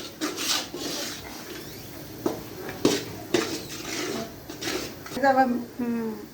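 Aflatoon sweet mixture being roasted in a pan gets scraped and rubbed by a spoon in uneven strokes with occasional clinks, moderately close, while a voice talks over it.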